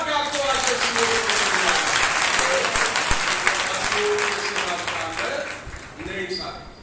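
A church congregation at a Sunday meeting claps hands together, a dense sustained round of applause mixed with a preacher's voice and other voices over it, tapering slightly toward the end.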